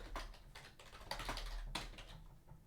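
Close, quiet clicking of a computer keyboard comes in quick uneven bursts of keystrokes with short pauses between them, and no one talks.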